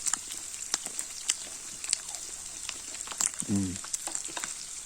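Fish cakes fry in a pan, giving a steady close sizzle and crackle with scattered pops and a brief scrape of stirring.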